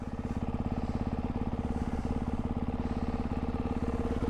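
A 2024 Ducati Hypermotard 698 Mono RVE single-cylinder engine idles close by, a steady, even, rapid low thumping pulse that holds without a break.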